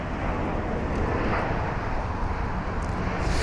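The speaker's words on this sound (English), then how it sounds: "There it is, flight number BA541 for the British Airways A320 Neo from Bologna" A British Airways A320neo airliner from Bologna lands at London Heathrow as a steady, broad jet roar that stays moderately distant and even throughout, with no one talking.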